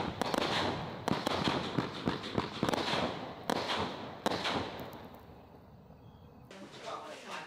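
Consumer firework shooting red, green and yellow fireflies with silver glitter, closing in a quick 12-shot finale: a rapid run of loud, sharp crackling bursts and pops that thins out toward the end.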